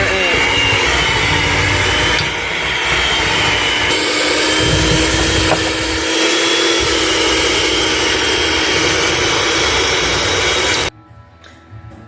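An electric mixer beats butter and sugars together for cherry chocolate chip cookie dough, a loud steady motor whir up close that cuts off near the end, with a voice heard faintly under it.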